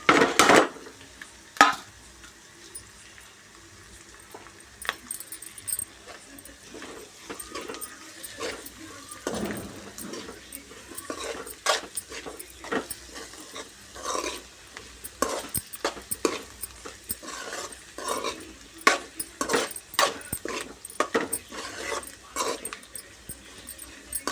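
A spoon scrapes and clinks in a pan as curry with mint leaves and onion is stirred over a faint sizzle, irregular knocks and scrapes coming close and steady.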